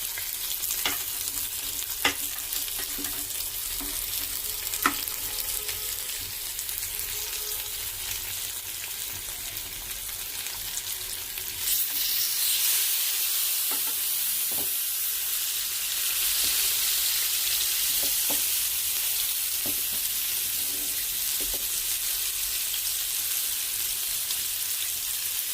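Fish frying in a pan sizzles loudly and steadily throughout, with occasional clinks and stirring sounds, growing brighter and denser partway through, with no talk.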